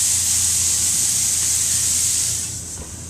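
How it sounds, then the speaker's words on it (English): Thin fajita steaks sizzle over 400-degree heat, a loud, bright, continuous hiss close at hand that eases slightly near the end. "Listen to that sizzle"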